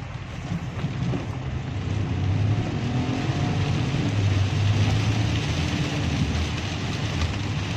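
Geely Azkarra Luxury 4WD car accelerating in sport mode, a steady low engine drone and road rumble rising gradually in loudness, heard from inside the cabin without talk.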